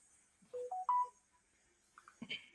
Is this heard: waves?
no